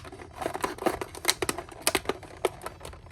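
Scissors cut through the plastic packaging of a Masters of the Universe Origins action figure, making close, crisp, irregular snips and crinkles in quick bursts.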